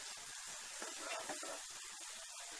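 Kesari with ghee stirred in, cooking and steaming in a pan, giving a soft, steady hiss and faint sizzle that runs unbroken throughout at low volume.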